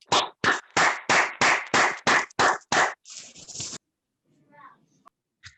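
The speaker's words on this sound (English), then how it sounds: "Another virtual round of applause for him," During an online swearing-in ceremony for new NIDO Americas executives, a single person claps about ten times in an even rhythm close to the microphone, followed by a brief rustle and then near silence with a faint sound.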